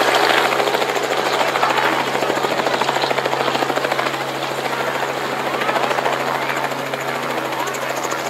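A helicopter flies over an outdoor Christmas opening event in Lahti, its loud, steady rotor chop and engine drone filling the whole stretch with a rapid pulsing beat.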